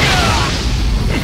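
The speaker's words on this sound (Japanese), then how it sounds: "第一の爆弾。" A loud, close bomb blast in a JoJo All Star Battle fight, a dense roaring boom that fills the short moment with rumbling mixed with game effects.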